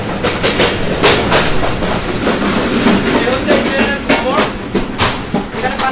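A Nakshikantha local commuter train on the Khulna to Dhaka run, heard from inside near the toilet, rattles and clatters with heavy shaking in a loud, steady, close roar, while someone talks over it.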